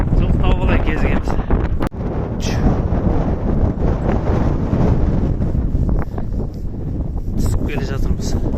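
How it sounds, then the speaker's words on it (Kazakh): Wind blowing across the open steppe, buffeting the microphone in loud, continuous gusts, with voices talking intermittently over it. "Дала тауығы, мына жел міне"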